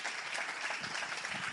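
A church congregation breaks into brief, fairly faint applause, an even patter of many hands clapping for a second or two.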